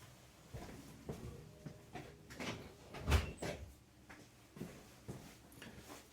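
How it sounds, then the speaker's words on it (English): A door being closed indoors in a workshop during resin work, several faint knocks and soft handling bumps with one firmer thud in the middle, quiet overall with no talk. "let me go and close that door a minute"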